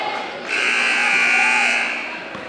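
A loud basketball game buzzer sounds once in a single sustained electronic blast of about two seconds during a high school boys game, with no talk over it.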